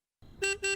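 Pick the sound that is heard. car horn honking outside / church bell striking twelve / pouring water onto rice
car horn honking outside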